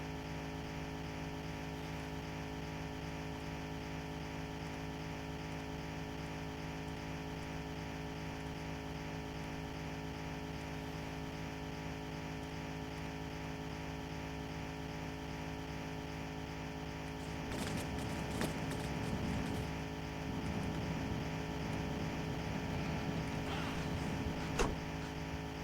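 A car engine in the driving game The Long Drive drones loudly and steadily as a constant hum, with a burst of rougher, busier noise toward the end.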